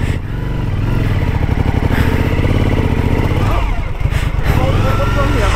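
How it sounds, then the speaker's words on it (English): A touring motorcycle's rear wheel spins in mud, the engine revving loudly and unevenly with a harsh, rising drone and a brief dip before it revs again, close to the microphone. "I just do a little wheel spin."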